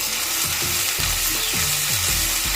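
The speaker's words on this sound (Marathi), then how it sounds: "तिखट कांदा लसूण मसाला मिसळ मसाला आणि पाव चमचा हळद याला चांगलं शिजू द्यायचं" Onion-garlic masala, misal masala and turmeric sizzle loudly in oil, a dense continuous frying hiss close up with repeated stirring scrapes throughout.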